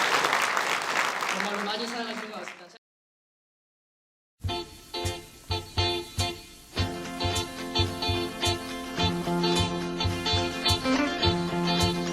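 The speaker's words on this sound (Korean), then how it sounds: "여러분 큰 박수 부탁드리겠습니다" Wedding guests applaud after a cheer: the clip opens with a loud voice, falls silent briefly, then a steady run of clapping begins, mixed with music.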